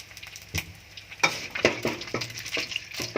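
Eggs frying in a hot pan with Chiang Da greens for a Thai stir-fry, a steady close sizzle broken by sharp clicks and scrapes from stirring, with no talking.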